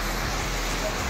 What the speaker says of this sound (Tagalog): Lakas ng ulan, oh.